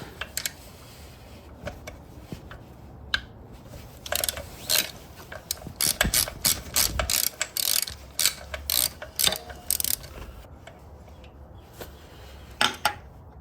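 A ratchet with a swivel socket loosens bolts on a Mazda RX7 FC turbo rotary engine, giving close, sharp bursts of rapid clicking separated by short pauses, with no talking.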